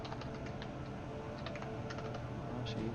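Steady typing on a computer keyboard, close and continuous, with rapid irregular key clicks running throughout over a faint background hum and no voices.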